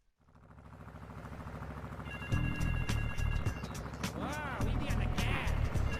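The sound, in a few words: telephone ringing in video game Grand Theft Auto III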